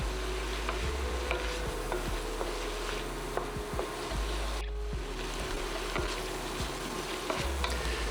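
Chili ingredients cook down in a pot for a Texas chili with three meats, garlic, salt and pepper, giving a steady close sizzle and bubbling with occasional soft knocks and clinks throughout.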